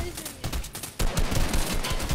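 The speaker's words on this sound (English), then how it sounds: "I'm lasering it!" Rapid bursts of laser fire aimed at a UFO in a video game, dense repeated shots that swell louder after the first second and keep going without a break.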